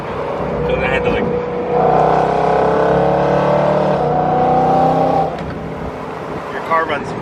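A high-mileage BMW M3 pulls along with its engine rising in pitch as it accelerates and then settling, heard from inside the car, with people talking over the drone.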